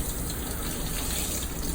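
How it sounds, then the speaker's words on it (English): Hands rinsed under a running tap before surgery, a steady close gush of water splashing continuously with faint variations as the hands move through the stream. "I'm gonna rinse off my hands, keeping my fingers above my elbow."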